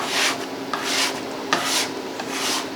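Scraper dragged across softened, chemically lifted lacquer finish on a wooden mid-century dining table, giving several long, close rasping strokes in a steady back-and-forth rhythm with no talk.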